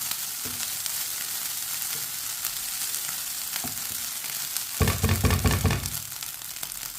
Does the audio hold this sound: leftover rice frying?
yes